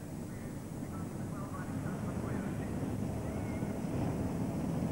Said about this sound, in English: Completing halfway in their rolling lap, these V8 engines starting to get warmed up, ready for doing battle.